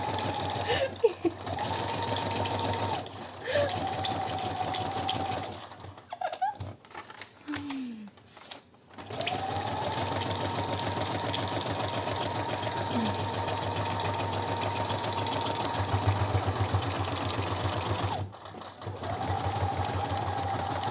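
A sewing machine stitches in several loud, steady whirring bursts separated by short pauses, with a brief voice and some handling noises in the gaps.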